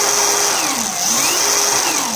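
An ONEVAN cordless chainsaw with an 8-inch bar runs at a constant speed, a loud, steady high-pitched motor whine with a buzzing chain, close and unbroken for the whole moment.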